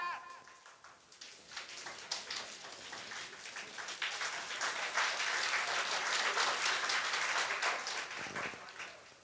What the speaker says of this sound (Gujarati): જોરદાર તાળીઓ તમારા સૌના માટે